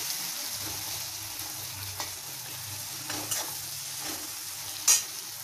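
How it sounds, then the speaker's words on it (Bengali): Onions frying until reddish in a pan make a continuous soft sizzle, with a few light stirring scrapes and one sharper clink near the end. "যতক্ষণ পেঁয়াজটা ভাজা হচ্ছে"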